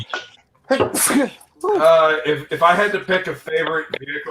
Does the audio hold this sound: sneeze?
yes